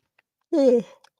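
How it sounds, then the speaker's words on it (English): A single big human yawn, a short voiced stretching sigh rising and falling for under half a second in a quiet room. "I had a big yawn."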